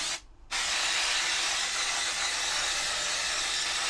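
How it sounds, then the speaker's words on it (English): Aerosol clutch and brake cleaner sprays in a loud, steady hiss, cutting off briefly after a short burst then resuming continuously close to the mic. "All I've got is some clutch and brake cleaner. And then all I'll do is give it a squirt."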